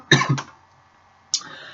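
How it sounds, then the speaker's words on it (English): A man coughs twice, a harsh double burst and then a single cough after a short pause, close and loud with no other sound around it. "I don't know why I'm coughing."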